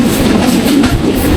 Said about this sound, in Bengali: এই মুহূর্তে প্রবেশ করছে Mallika commuter train Chapainawabganj railway স্টেশনে।